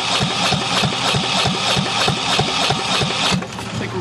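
A marine diesel engine runs during winterizing, chugging close and loud with a quick, even knocking beat, then drops to a quieter idle near the end.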